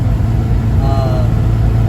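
A Honda Civic with a K20Z1 engine and matching exhaust revs, a steady loud low-pitched rumble with a brief rising rev in the middle, heard close throughout.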